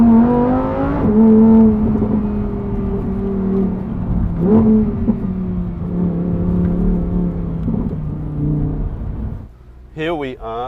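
A Lamborghini Huracan Spyder's engine drones loudly and rises in pitch through the gears, dropping and climbing again as the supercar accelerates, with a brief lull near the end.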